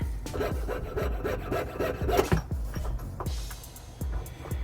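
Rhythmic back-and-forth strokes of a jeweler's saw biting through a metal pendant, steady and close, with sharp rasping pulses repeating about twice a second.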